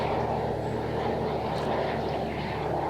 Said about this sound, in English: Sorry, airplanes going overhead.